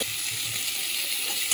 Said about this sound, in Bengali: নুন হলুদ দিয়ে একটু কপিটা একটু খাঁকলে নিই